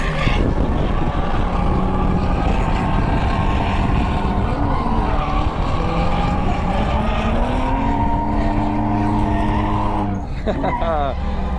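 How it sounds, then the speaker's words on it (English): A BMW E46 with a ZHP swap is driven hard around a road course, its engine roaring loud and steady as revs climb and fall through the gears, and tires squeal briefly near the end. A voice speaks over the noise. "It's cool chasing Brian on the road course"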